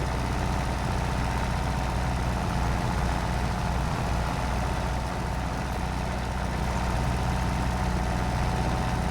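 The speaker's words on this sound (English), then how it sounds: "Let's give it some more power in the engine." A farm machine's engine revs up in a farming restoration video game, a steady, loud, low droning hum that holds throughout without any talk over it.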